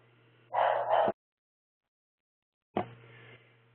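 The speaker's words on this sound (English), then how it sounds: "And I apologize for my Labradoodle barking in the background." A short burst of Labradoodle barking, then silence, then another bark that trails off, fairly close.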